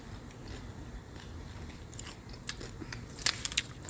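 Someone bites and chews a fresh, juicy freshly harvested cucumber with sauce: faint chewing builds into a few sharp, close crunches near the end, with no speech.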